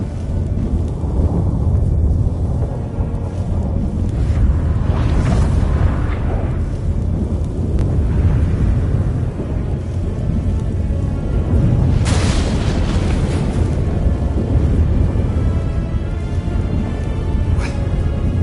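A thunderstorm in the video game The Witcher 3 rumbles continuously with deep, loud booming and rolling thunder throughout, with sharper cracks partway through and no talk.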